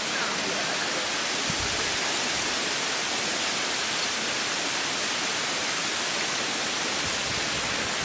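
Water spilling over a rock face at a waterfall on a hike, running with a lighter flow than usual, gives a steady broadband rush that holds even and unbroken throughout, with no voices.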